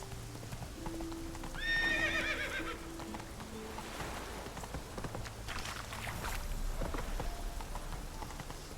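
Hooves clip-clop steadily as the horse Roach gallops in the video game The Witcher 3, with a neigh early on, all fairly close and continuous.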